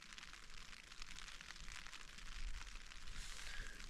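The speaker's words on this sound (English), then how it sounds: "it's definitely raining" Steady rain patters continuously on a tent overhead while wild camping in the Lake District, a dense, even hiss of drops with no voices.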